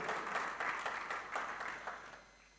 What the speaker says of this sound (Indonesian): Boleh, tepuk tangannya yang serentak begitu.